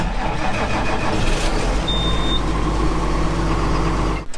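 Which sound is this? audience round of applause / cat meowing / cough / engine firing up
engine firing up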